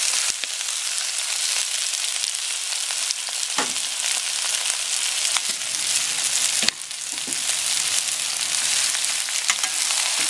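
Yakisoba noodles and cabbage frying in a hot pan, a loud continuous sizzle with occasional brief stirring knocks, close and steady throughout with no talking.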